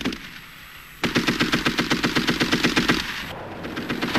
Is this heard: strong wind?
no